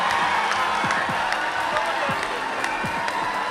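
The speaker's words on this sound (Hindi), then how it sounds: "तो जोरदार तालियां" An audience at a Hindi comic poetry gathering (hasya kavi sammelan) claps and cheers. Dense, steady clapping runs throughout, with scattered whoops and whistles rising above it.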